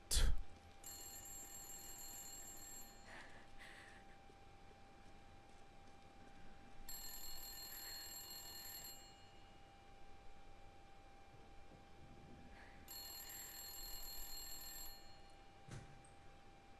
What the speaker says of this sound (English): I'ma just inspect this room a little bit while the phone rings